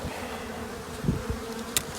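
Honeybees buzzing in a hive during a queen and royal-cell inspection, a dense steady hum up close with a few brief clicks and knocks, no voices.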